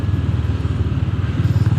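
Close, loud exhaust note from a Honda GB 350 S motorcycle, a low, gruff rhythmic thudding that holds steady and swells slightly near the end, with no one speaking.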